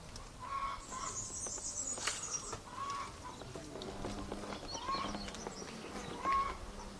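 Hens cluck softly at a distance outdoors, a scattered series of short clucks and calls over quiet background.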